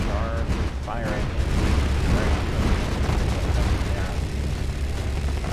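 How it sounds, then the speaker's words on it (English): Trident turrets firing in a Space Engineers ship battle, a dense, continuous rumble of heavy weapon fire with booming low end throughout, mixed under a speaking voice. "He still has operable trident turrets, which are firing."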